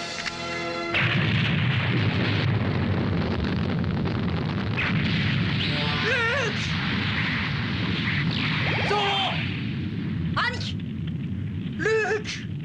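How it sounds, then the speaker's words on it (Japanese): A bomb explodes in an anime battle scene, a loud sustained roaring blast with rumbling debris that fills the whole stretch, under bursts of shouting voices and brief high-pitched cries near the end. "罠だ、爆弾が仕掛けられている"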